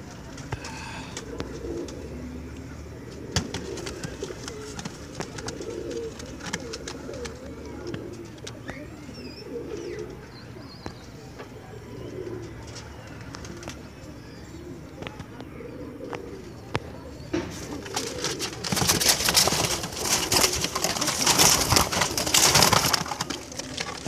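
Pigeons coo steadily at a pigeon market in Multan where highflyer breeds are sold, the soft rolling calls layered with wingbeats and busy market background, growing louder and denser near the end.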